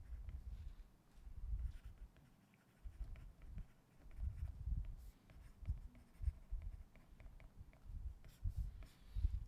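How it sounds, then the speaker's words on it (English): Pen scratching out equations on paper in irregular bursts of strokes, close and fairly quiet, with brief pauses between groups of writing. "Let me write that down."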